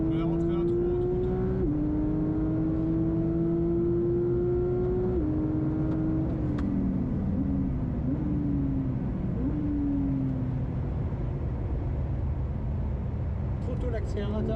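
A Porsche GT3 992.1 lapping the Spa circuit, its engine droning loud and steady with rising pitch through the gears, brief drops at shifts and a longer lift off the throttle, heard from inside the car.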